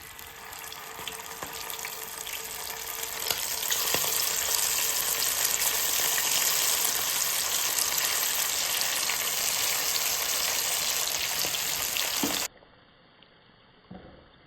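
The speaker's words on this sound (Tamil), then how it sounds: "நம்ம மேரினேட் பண்ணி வச்சுருந்த சிக்கனை அதுக்குள்ளே போட்டுக்கலாம். பொரிச்சு எடுத்துடலாம்." Marinated chicken pakoda pieces deep fry in hot oil, a loud, dense, continuous crackling sizzle held close for about twelve seconds before cutting off abruptly to near quiet.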